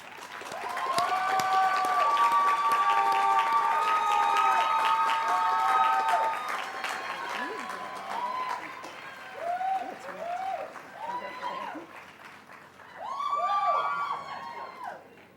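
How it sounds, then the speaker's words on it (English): A commencement crowd bursts into loud, sustained applause mixed with high whistles and cheers, which thins into scattered whoops and a few voices before swelling briefly again. "Please recognize her with your applause."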